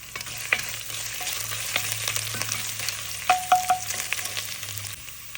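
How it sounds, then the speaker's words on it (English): Mustard seeds pop while frying in a hot pan, steady sizzling broken by a few sharp, close pops, with a quick cluster of crackles near the end. "now I'm going to add the mustard seeds. You're going to hear them popping."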